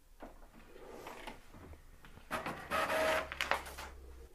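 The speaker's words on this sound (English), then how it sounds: "I've printed out this guide" An HP ENVY 5032 inkjet printer prints a guide page, its mechanical whirring and clacking building into a louder feed burst in the second half, close and alone with no talk.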